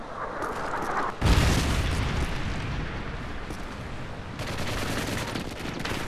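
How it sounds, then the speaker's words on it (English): A Predator missile strike in Modern Warfare 3 lands as a loud, close boom followed by a sustained roar of blast and gunfire that stays dense and rumbling for several seconds, with no talk. "Friendly Predator missile inbound."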